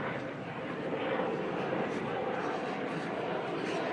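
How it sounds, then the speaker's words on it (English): A helicopter drones overhead above heathland lined with bracken, brambles and holly on a warm afternoon, a faint, steady distant hum that swells slightly, with someone talking over it. "a helicopter overhead,"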